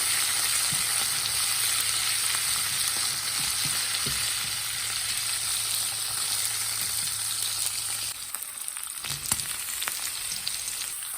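Ivy gourd frying in a pan with asafoetida, a dense steady sizzle close by with occasional stirring scrapes; the hiss drops away near the end, leaving a few clinks.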